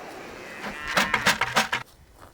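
Several loud calls from cattle (a bull, a cow and calves) in quick succession, close by, rising and falling over about a second with quiet outdoor noise around them.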